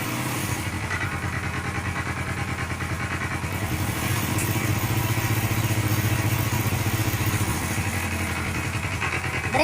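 A TVS XL100 moped engine runs steadily with the brake applied, its rear wheel spinning from a clutch fault. The engine gives a continuous, near, even chugging drone with a fine rapid pulse that holds level throughout, with no talk over it.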